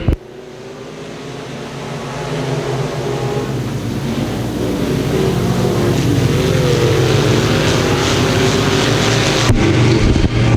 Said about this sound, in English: Green flag flies and we're racing.